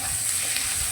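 Onions frying with ginger-garlic paste while being stirred, producing a steady, dense sizzle with soft scraping underneath, close and continuous throughout.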